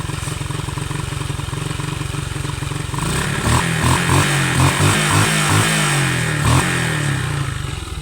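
A Snipy 135 Classic motorcycle engine, freshly overhauled, idles with a rapid steady putter, then revs in a few loud rising bursts before settling back, close and alone.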